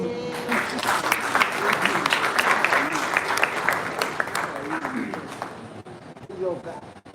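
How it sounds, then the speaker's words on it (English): A crowd at a dinner gala at the Sheraton Hotel Kampala claps loudly and steadily for several seconds, with some cheering and voices mixed in before the applause thins out near the end. "Please join me with a loud round of applause"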